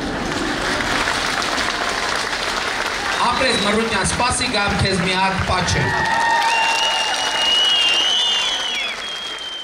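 A three-year-old child claps along with a crowd's applause during a prime minister's visit to Armenia's Tavush region, the clapping running steadily beneath someone talking throughout.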